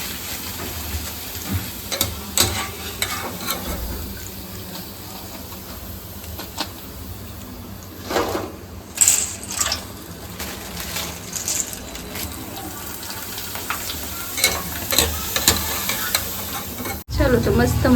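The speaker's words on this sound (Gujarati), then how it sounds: "ચલો તો મસ્ત મજાની પૂરી તળવાનું કામકાજ ચાલુ છે." Puri frying in hot oil, a steady close sizzle and bubbling with occasional louder bursts of spattering as the dough hits and turns in the oil, a brief clatter near the end, no talk.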